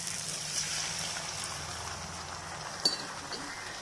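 Half a cup of water poured into a pan of tomato masala with chilli powder and turmeric for egg gravy, a steady broad wash of liquid at low level throughout, with one brief sharper splash near the end.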